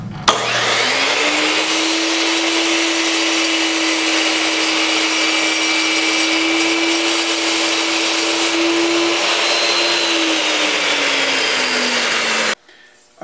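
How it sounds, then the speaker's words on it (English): A power saw cross-cuts aluminum picture-frame side pieces to length, whining at a steady high pitch for about twelve seconds before it cuts off abruptly, loud and close. "I've just finished cutting the sides of the frame to length."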